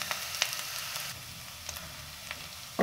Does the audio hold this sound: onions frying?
yes